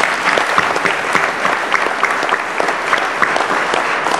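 Steady, dense applause from a championship rally audience honoring an absent coach, evenly sustained at moderate loudness throughout with no voices breaking through.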